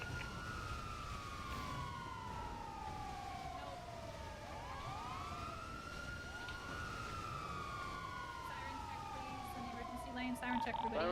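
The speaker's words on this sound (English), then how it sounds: "Siren check, everybody. Siren check, siren check." Wailing emergency siren from a vehicle in a video game, rising and falling sweeps over a steady rumbling background, fairly faint and continuous.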